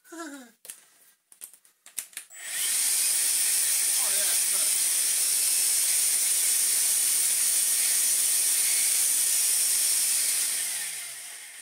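A Vax Air Cordless vacuum cleaner under repair, with a few clicks and knocks before the motor starts and then a loud, steady high whine and airflow hiss that fades slightly at the end.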